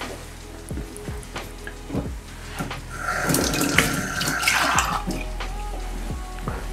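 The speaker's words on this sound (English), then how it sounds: "let me add a bit of water so that" Water is poured from a tap-like stream into a pan of shakshuka with sausages, a close splashing rush swelling in the middle of the clip over a low background hum, then easing off.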